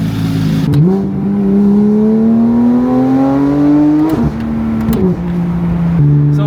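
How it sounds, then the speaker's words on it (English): A loud hypercar engine revs hard, its pitch climbing steadily over several seconds before dropping back and surging again, close and dominant with no talk over it. "this car is hilarious how loud it is"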